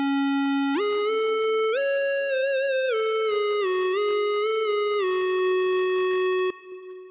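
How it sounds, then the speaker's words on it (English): A VPS Avenger 2 synthesizer plays mono legato lines, a single bright buzzy tone gliding smoothly up and down between held notes, with each pitch change sliding rather than jumping, close and alone. "mono legato, only one note can be played at once and will only slide when we're holding down a note and then we add"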